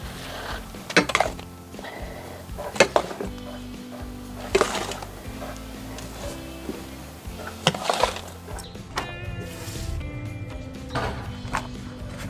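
Old compost being stirred and mixed in a pot, with several sharp scraping and knocking hits against the container amid softer rustling, close by.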